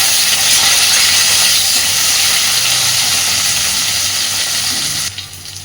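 Bitter gourd stir-frying in hot oil in a pan, a loud, dense hiss that holds steady for about five seconds and then suddenly drops away.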